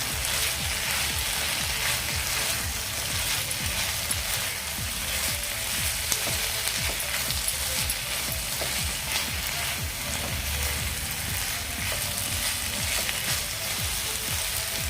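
A pea-pod vegetable mixture is stirred in a pan, making a continuous dense sizzle with soft scraping and clicking from the spoon throughout, no voices.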